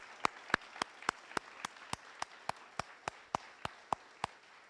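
Slow, evenly spaced single claps, about three per second, sound fairly quiet and isolated at an outdoor graduation ceremony for service dogs and veterans in Ponte Vedra, Florida.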